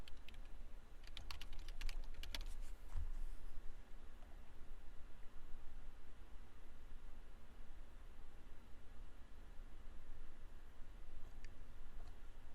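Quiet keystrokes on a computer keyboard tap out a username and password: a quick cluster of clicks early on, then sparse, faint taps over a low background hiss.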